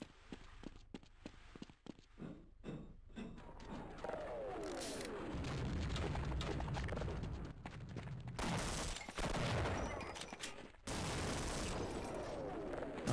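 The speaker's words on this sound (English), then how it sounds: "I'm just gonna stay behind this rock and just shoot." Dense bursts of gunfire and booming explosions in the Half-Life video game, loud and near, with rapid shots early on giving way to sustained roaring blasts and rumble.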